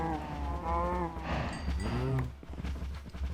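Cows mooing in the Minecraft video game, a few drawn-out bovine lows in quick succession with harmonic tone, loud and close, no talking over them.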